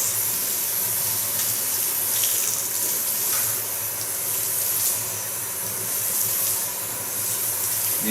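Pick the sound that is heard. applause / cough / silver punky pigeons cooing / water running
water running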